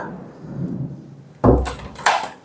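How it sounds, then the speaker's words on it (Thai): Thunder from a lightning strike near a resort close to Wat Mahathat in Ayutthaya: a sudden loud crack, then a second burst and a fading rumble, heard from indoors after a quiet stretch. "อุ้ยฟ้าผ่า"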